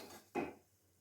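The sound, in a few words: vegetables scraped with a spatula into a pressure cooker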